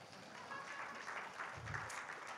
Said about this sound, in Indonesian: Kita kasih tepuk tangan buat kuartet